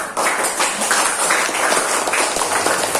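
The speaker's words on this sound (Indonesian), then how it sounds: "Kita kasih tepuk tangan untuk kelompok 3" Schoolchildren in an elementary school classroom clap for group 3, a brief, lively burst of many hands clapping at close range without talk.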